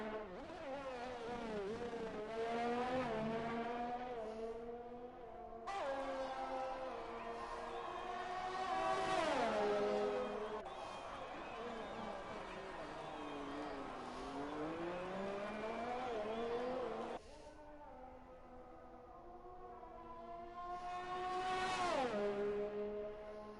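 An F1 race car on a flying lap around the Canadian Grand Prix circuit in a racing video game, its engine note climbing and falling through repeated upshifts and downshifts, loud and steady with no talk over it.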